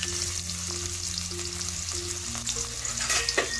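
Finely chopped medium onion fries in lightly heated white oil for potato-stuffed kachori, a steady close sizzle with soft crackles and a few stirring scrapes near the end, over a faint background hum.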